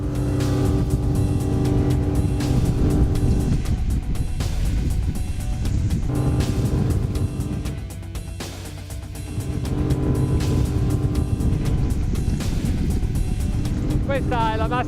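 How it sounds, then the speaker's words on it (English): Speedboat driven by a Suzuki 350 hp outboard with counter-rotating propellers, running at full throttle near 37 knots: a loud, steady engine roar with rushing water, briefly dipping midway before surging back. "with the throttle fully open of this Suzuki 350 horsepower"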